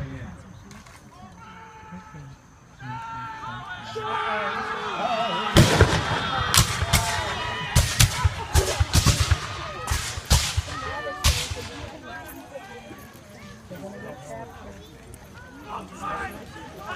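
Civil War reenactors in two ranks fire muskets at a field battle at a grange encampment, with a ragged volley of loud sharp cracks spread over several seconds. An announcer talks over the shots.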